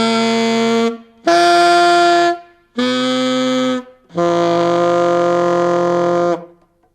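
Saxophone played while the player hums or growls in the throat at the same time, giving a rough, buzzing tone across four sustained notes with short gaps, loud and close with no talking.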